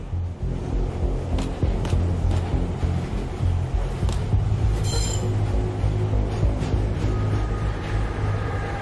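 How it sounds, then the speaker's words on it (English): A train rolls into a station in a VR shooter game, with a steady low rumble of rail travel and brief high wheel squeals and clanks throughout. "We are now pulling into the rail station."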